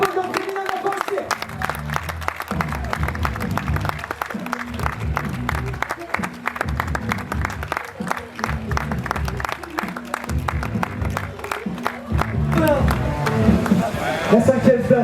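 Large outdoor crowd applauding and cheering for the women's podium at La Forestière 2022 in Arbent, a sustained dense wall of clapping and shouts with an announcer's amplified voice over it, swelling louder toward the end.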